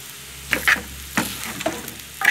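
Chow mein with vegetables, green onion stalks, green chile and soy sauce frying and being stirred in a pan, a steady close sizzle broken by several scraping clatters of the utensil.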